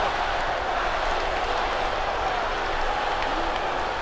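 A video game arena crowd from WWE 2K18 during a Hell in a Cell match with The Rock, a constant dense wall of cheering and roar that stays at an even level throughout.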